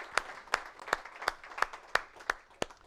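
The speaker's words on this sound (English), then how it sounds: "So if you'd like to just join with me and give him a round of applause." Audience applause at a live results event, heard as a steady series of about eight distinct, evenly spaced claps, fairly faint and without talk over it, more like one or a few people clapping in rhythm than a full crowd.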